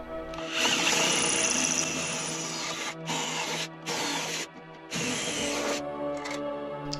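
A power drill enlarges screw holes in the metal leg plates of a solid oak desk, whining loudly in sustained bursts with a few brief stops, close up with no talking.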